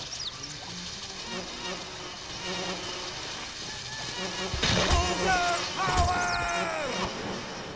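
Bees buzz around farm beehives in the Shrek 2 video game at Jack and Jill's Farm, a continuous insect drone with a few sharper thuds and swells near the end, no talking.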